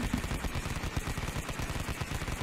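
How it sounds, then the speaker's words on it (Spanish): Rapid burst of loud gunfire in an animated Thomas the Tank Engine parody scene, a dense train of sharp cracks repeating without pause for a couple of seconds. "Tengo que dispararte para sacarte de las vías."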